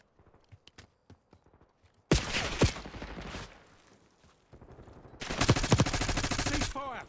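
Sustained automatic gunfire in Call of Duty Black Ops 6, opening with faint distant taps, then two loud, dense bursts of rapid shots close up, with brief game dialogue between them.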